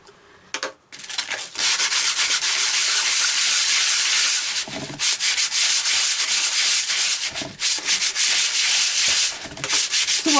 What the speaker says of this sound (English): this is a fine grit sandpaper, and I'm just going to rub over the vase until I'm happy with the outcome